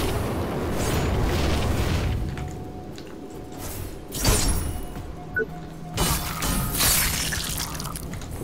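An explosion in the video game The Surge erupts as a loud, rough burst of blast noise, then thins into lighter crackling debris and a couple of smaller pops.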